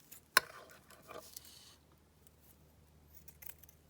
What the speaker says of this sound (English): let me just cut that down.